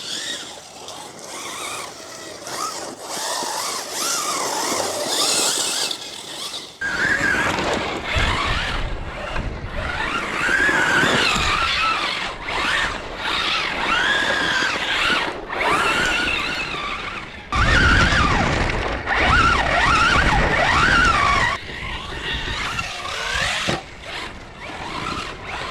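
A 1/10 scale RC truck's electric motor whines and revs in bursts, rising and falling as it drives, with gritty tire and gear noise between pulses.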